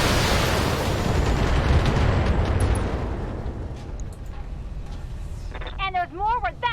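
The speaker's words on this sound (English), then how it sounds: "Let's use a precision strike here just to put as many missiles on target as possible." Missiles from a BattleTech precision strike hit their target in a long, heavy rumble of overlapping explosions that slowly fades, followed by a few faint voice-like tones at the end.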